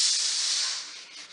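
Pressure cooker full of chickpeas on a stove: a continuous steady hiss of escaping steam that fades slightly toward the end, heard alone.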